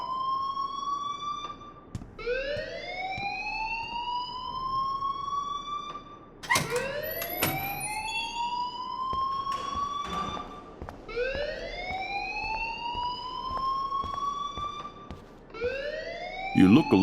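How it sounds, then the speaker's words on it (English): A rising and falling electronic siren-style alarm wails repeatedly in the video game Life Is Strange, a steady loud cycling tone that continues throughout with brief extra noises layered in. "please turn off that alarm since that's your job"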